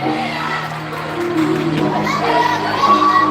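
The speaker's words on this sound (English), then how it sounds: "they're cheering for TI" Hockey arena crowd of parents and kids cheering for team TI during an AHAI playoff game, loud excited shouts and whoops rising toward the end.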